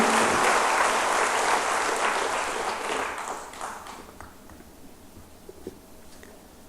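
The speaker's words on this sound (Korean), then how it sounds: "한번 박수합시다." Church congregation applause, loud at first, then thinning and fading over several seconds until only a few scattered claps remain.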